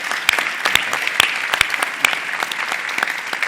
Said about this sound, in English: Please give a massive round of applause for our panel for giving up their time.